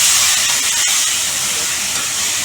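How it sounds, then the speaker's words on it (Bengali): Bottle gourd hits a hot pan with a loud, dense, continuous hiss of sizzling oil and steam close up, with a faint clunk early on. "এবার আমি লাউটা কিন্তু ছেড়ে দেবো"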